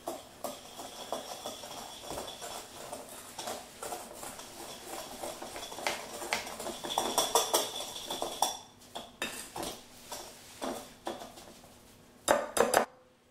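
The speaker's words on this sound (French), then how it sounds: "Je vais mélanger." A spoon clinks and scrapes against a bowl as lemon meringue tart filling is mixed. Busy, uneven tapping builds up, with a few sharper knocks near the end.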